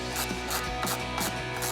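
A Torx wrench from a Jeep Wrangler toolkit ratchets in quick, evenly spaced metallic clicks, close and moderately quiet, with no talking.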